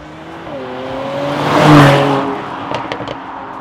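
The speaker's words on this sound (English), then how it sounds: "the V6 in this C43 AMG and the AMG Performance Exhaust creates a lovely aggressive growl" A Mercedes C43 AMG's V6 engine with an AMG Performance Exhaust growls aggressively and rises in pitch as it revs up, swelling to a loud peak before easing off, heard from close by.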